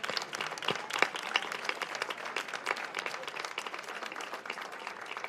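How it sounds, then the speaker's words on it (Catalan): Sustained applause and clapping from a crowd at a poster presentation for a town's autumn festival, steady dense claps throughout with no break. "que us mereixeu un fort aplaudiment."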